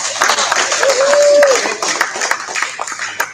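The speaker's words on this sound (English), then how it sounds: "Let's give her another round of applause." An audience at a panel discussion applauding, clapping from a room of people with a whistle cutting through the middle, heard with chatter and voices mixed in.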